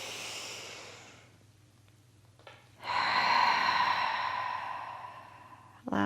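Deep, slow breathing during a gentle post-hysterectomy exercise routine: a long airy exhale fades out, then after a quiet pause a strong, close inhale swells and holds for about three seconds before the next breath begins.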